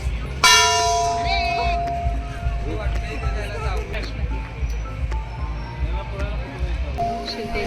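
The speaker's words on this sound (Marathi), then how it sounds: "माहिष्मतीची घंटा असा पण एक पॉईंट आहे जिथं जाऊन आपण घंटा वाजवायचे आहे" A large bell rings once at Shivtej waterpark in Kolhapur with a long, resonant ringing tone that slowly fades, amid crowd chatter and rumbling background noise.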